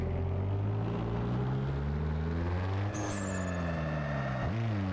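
A car engine in Need for Speed Underground 2 roars steadily on a dyno run, its pitch climbing through rising gears with brief shift dips, loud and continuous with a faint whine near the end.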